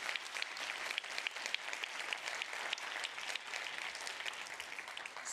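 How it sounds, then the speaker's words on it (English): An audience at a European science awards event applauds steadily, dense clapping from many hands filling the room at moderate volume without a break and with no talk over it. "please, a huge round of applause for them"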